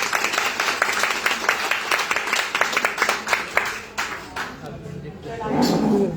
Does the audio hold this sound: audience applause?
yes